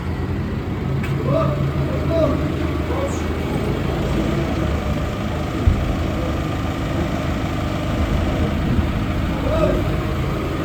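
A truck arrives for container loading and runs with a steady low engine rumble and idle, backed by light road noise. The sound stays fairly loud throughout, with faint voices in the background.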